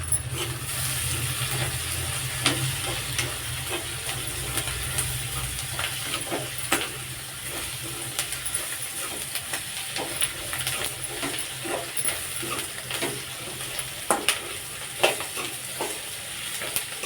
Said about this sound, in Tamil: உப்பு போட்டு வதக்கணும்னா வெங்காயம் கொஞ்சம் சீக்கிரம் வதங்கும்